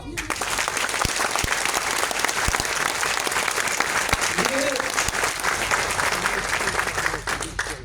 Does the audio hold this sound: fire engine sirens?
no